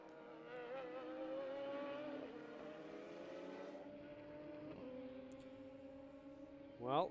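A race car laps Circuit of the Americas during green-flag running, its engine droning steadily with rising and falling pitch through the penultimate corner, a brief sharper burst near the end, under continuous commentary.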